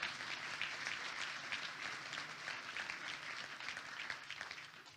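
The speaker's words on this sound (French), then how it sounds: "On peut les applaudir, oui." An audience at a New Year's greetings ceremony gives faint, distant applause, a steady even patter of many hands sustained throughout.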